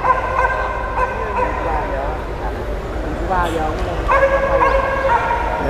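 Dogs at a Vietnamese dog show yip, bark and whimper repeatedly in the background while someone talks loudly over them throughout.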